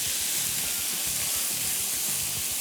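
Onions hitting minced meat seasoned with soy sauce in a hot pan for egg roll filling, a loud, even hiss and sizzle with faint stirring scrapes and no one speaking.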